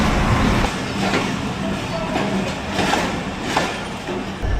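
The Dhaka-bound Chilahati Express arrives at a station with a loud, broad rumble and periodic clanking surges, close by and continuous.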